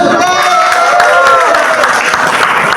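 A crowd at a ball bursts into loud, dense applause and cheering, a continuous close wash of clapping with voices mixed in.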